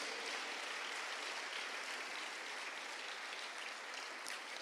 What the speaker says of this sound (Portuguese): Pode aplaudir, queridos.